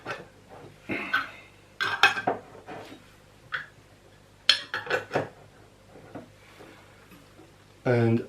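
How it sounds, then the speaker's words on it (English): Plastic lids pressed and snapped onto containers holding toilet paper samples, giving a few sharp clicks and clatters scattered between quiet gaps, with a louder knock near the end; a person talks briefly. "Put the lids on."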